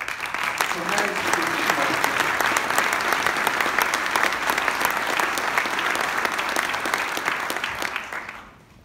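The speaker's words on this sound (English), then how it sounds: "Let's give them a round of applause." Steady, dense applause from a sizeable crowd at a mayor's State of the City address, sustained for several seconds before tapering off at the end.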